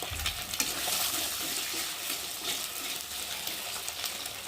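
Eggs scramble in a hot pan as a spatula stirs them, a steady close sizzle with soft scraping through the whole stretch and no voices.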